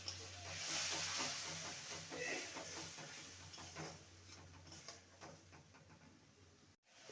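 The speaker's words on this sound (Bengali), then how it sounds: "মশলাটা কষে আসছে এখনও পুরোপুরিভাবে কষেনি" Spice paste (masala) sizzling and frying in a pan while being cooked down for a vegetarian potato curry, a steady close hiss with faint spattering, quieter toward the end and cut by a brief drop.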